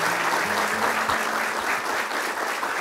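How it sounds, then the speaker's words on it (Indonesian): An audience at a Quran recitation session applauds a child reciter after Surah Al-Insyirah, a continuous, fairly loud wash of clapping hands with no voices standing out. "Boleh tepuk tangan untuk Azza."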